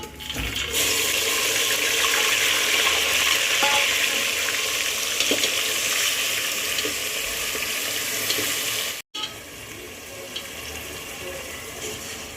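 Finely chopped onion sizzles steadily in a hot pan for chicken dum biryani, a loud continuous frying hiss with faint stirring scrapes, briefly cutting out near the end before resuming a little quieter.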